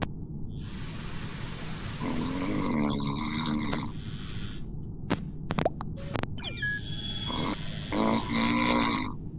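A man snoring indoors, loud rasping breaths repeating in slow cycles across the clip, with a few sharp clicks and knocks in between; no talk.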